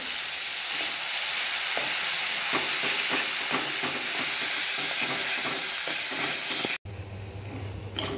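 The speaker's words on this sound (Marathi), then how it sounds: "यामध्ये मी आता हे जे वाटण बनवलं आहे ते घालून घेणार आहे" Freshly ground masala paste, stone-ground on a grinding slab, sizzles loudly in a pan as it is stirred in. A dense, continuous frying hiss carries scraping stir strokes, then cuts off abruptly and a quieter hum follows.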